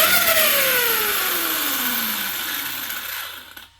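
A Kraton 6S EXB RC car's electric motor whines loudly close up, its pitch falling steadily as the throttle eases off, ending in a short rattle.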